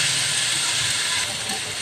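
Bitter gourd (ampalaya) sautéing in a pan for a shrimp dish gives a steady, close, bright sizzling hiss that holds evenly throughout without breaks.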